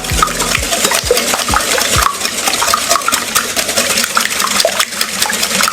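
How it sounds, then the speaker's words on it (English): An egg being whisked vigorously in a bowl, a fast steady run of close scraping clicks and taps that continues throughout without talk. "Make sure you whisk it really good."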